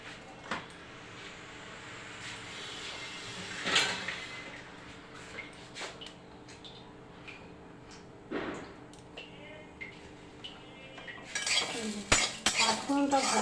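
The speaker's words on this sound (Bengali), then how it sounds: "5 ফোড়নটাকে আমি একটু শুকনো খোলার মধ্যে ভেজে নেব, গ্যাসের ফ্লেমটা বাড়িয়ে দিয়ে" Panch phoron spices dry-roasting in a wok over a high gas flame, heard as quiet metallic scrapes and clinks of a spatula stirring, sparse at first and then busier near the end, with no talking.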